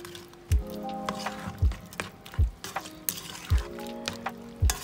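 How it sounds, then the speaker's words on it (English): A spoon stirs cilantro cubes into a pan of Spanish rice, scraping and clinking in a steady rhythm with soft thuds under a faint simmer, close and moderately loud. "And give that a stir."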